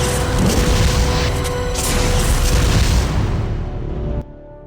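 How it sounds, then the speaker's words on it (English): Linear launcher shot exploding in the Resident Evil Survivor 2 game, a loud, dense, rumbling blast that roars for about four seconds and then cuts off abruptly. "2 shots with the linear launcher to take down Nosferatu"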